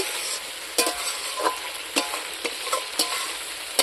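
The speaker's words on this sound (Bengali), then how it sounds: "এখন আমি চিকেনটা এইভাবে নেড়ে নেবো" Chicken stirred in a pan with a spatula, giving a soft sizzle broken by about eight sharp scrapes and clinks at an uneven pace, close and with no talking.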